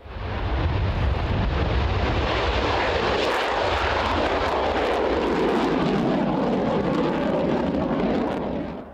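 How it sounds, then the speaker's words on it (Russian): Su-30SM fighter jet roaring loudly and steadily overhead, a broad continuous engine rumble with wind buffeting that holds for the whole stretch, alone without voices. "приобретения в нашей стране современных самолетов Су-30СМ"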